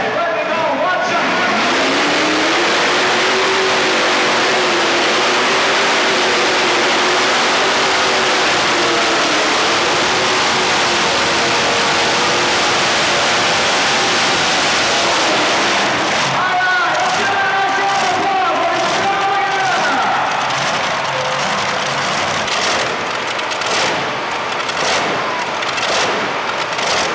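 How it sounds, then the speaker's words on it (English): Modified tractor engines scream at full throttle during a 5,800 lb. modified tractor class at the 1988 National Farm Machinery Show truck and tractor pull, a sustained roaring wail that rises and shifts pitch, with crowd noise and an announcer's voice underneath. "they'll put the hammer down and scream these engines"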